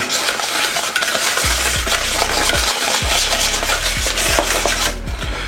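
Sugar being stirred into egg yolks in a mixing bowl for a Caribbean Robinson cake, a steady close scraping and rubbing of utensil against bowl with occasional knocks, continuous throughout without talk.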